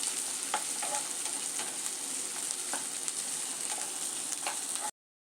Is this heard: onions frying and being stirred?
yes